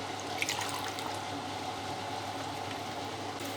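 Water poured into a cooking pot for chicken matar pulao, a steady, close pour with a continuous rushing wash and no talk.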